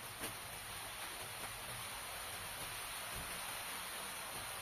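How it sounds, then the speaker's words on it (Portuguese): Light rain pattering steadily on roof tiles, a soft, even, continuous hiss of drops at a distance with no voices. "Olha o barulho da chuvinha em cima da telha."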